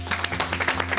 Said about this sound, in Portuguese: Uma salva de palmas pro Guilherme.